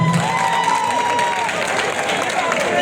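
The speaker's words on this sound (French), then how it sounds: "On applaudit encore très fort pour nous." A crowd applauds at an evening Benin Independence Day celebration in Libreville, a dense, steady wash of clapping with a voice speaking over it.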